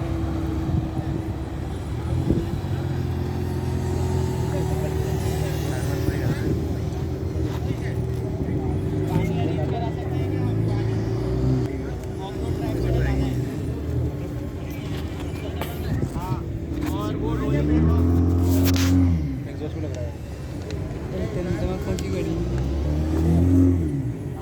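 A Jeep Wrangler Rubicon drives an off-road test course. Its engine drones steadily, then revs and surges in rising and falling pulls near the end. Voices are faintly audible under the engine noise.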